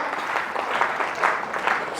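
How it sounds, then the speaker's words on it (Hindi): An audience at a business planning training session breaks into sustained applause, a dense, steady wash of many hands clapping throughout with no speech over it. "तो एक बार जोरदार तालियां अपने लिए बजाइए"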